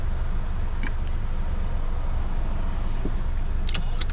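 Steady low rumble from inside a moving car on the road, continuous and fairly loud, with a few faint high clicks and ticks in the cabin.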